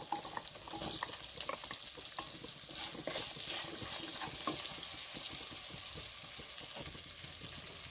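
Sliced onions fry with curry leaves and green chilli for poori masala, a busy crackling sizzle, close and steady, broken by rapid spitting pops and stirring scrapes.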